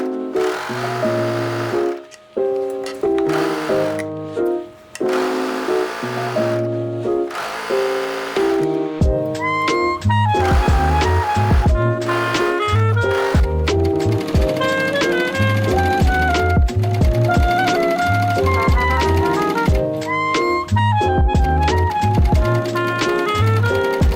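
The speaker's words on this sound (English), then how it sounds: "I'm going to serge it." A serger overlocks the seam edge of a cotton wrap dress, its rapid mechanical whirring starting and stopping in short bursts before running longer, with tuneful background music throughout.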